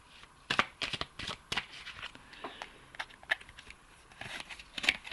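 Angel oracle cards being shuffled by hand, a run of crisp riffling bursts and flutters at close range, irregular in rhythm, with no talking over them.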